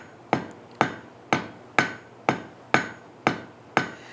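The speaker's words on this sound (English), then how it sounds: "So I'm just going to take this 1/4 inch rod and hammer it out into a square." Hammer blows on a 1/4 inch hot roll steel rod being forged square, eight sharp ringing strikes at a steady, even pace, close and loud with no talking.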